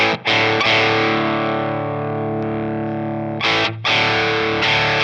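Electric guitar run through a Joyo King of Kings overdrive pedal on a clipping switch setting, heavily distorted and fizzy, sustaining a chord that rings loud and steady with short breaks where it is restruck.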